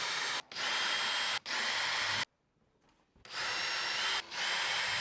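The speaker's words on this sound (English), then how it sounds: "Drill 6 holes for the inverter." Loud power drill running in bursts, drilling holes in a wall for an inverter mount, with short pauses between and one longer gap of near silence midway.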